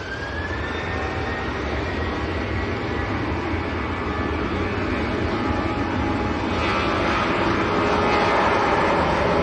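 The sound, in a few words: Ryanair airliner departing Manchester Airport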